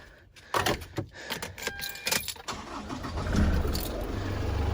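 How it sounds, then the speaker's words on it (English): Isuzu D-MAX 2021 engine cranking and starting after an oil change, with keys jangling first, then a brief crank that catches into a steady idle close by. "You just want to start the car."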